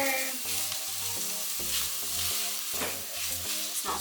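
Garlic and aromatics sizzle and crackle in a pan for leek and pea risotto while a spoon stirs them in steady, rhythmic scrapes, close and fairly loud with no talking.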